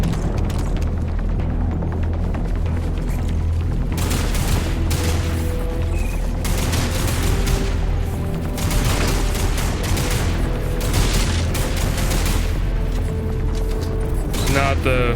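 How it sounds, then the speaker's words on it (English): Assault rifle fire in the video game Lost Planet 3, loud repeated bursts of gunfire mixed with mechanical clanks and booms over a constant rumbling game background. "Oh, an assault rifle."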